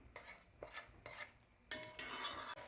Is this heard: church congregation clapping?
no